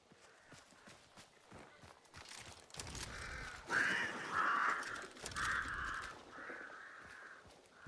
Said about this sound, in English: we just heard crows behind us